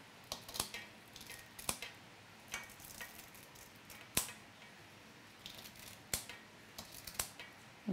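A galette is cut into four pieces, producing sharp, irregular clicks and taps of the blade against the surface, spaced a second or so apart, close and fairly faint over soft background noise.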